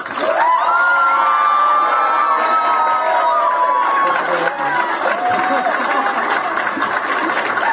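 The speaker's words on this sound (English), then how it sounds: "join me in giving a tremendous and rousing applause and appreciation to Tara Samples" A large election-night crowd in West Virginia cheers, whoops and applauds loudly and continuously for Tara Samples, with shouts and high voices rising over a dense wall of clapping and chatter.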